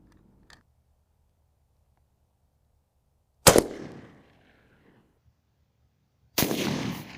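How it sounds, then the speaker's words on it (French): A prototype 6.5 Creedmoor EP1 127-grain cartridge is fired at a BZ-rated side plate, giving two sharp, loud rifle shots a few seconds apart, each with a short echoing tail, and a faint tap before them. "je vais tirer la cartouche prototype EP1 de 127 grains"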